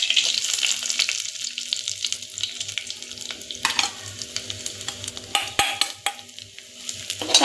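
Grated coconut frying in hot ghee in a pot, a steady close sizzle with scraping stirs and occasional clinks of the spoon against the metal, no talking.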